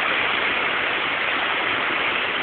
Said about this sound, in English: Here we are at the biggest waterfall